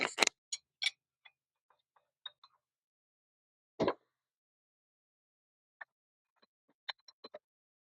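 Sparse metallic ticks and clicks from a wrench working loose four water pump bolts on a BMW E34 engine, isolated taps with long quiet gaps and one louder clank midway.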